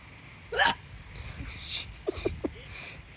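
In a swimming pool, someone gives a few short, sharp hiccups, with faint voices and light background noise between them.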